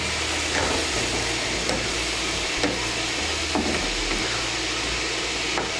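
Spices and a splash of water stirred in a pan while cooking a vegetarian bottle-gourd greens dish, giving a steady sizzle with soft scraping strokes of the spoon at a regular rhythm, close and moderately loud.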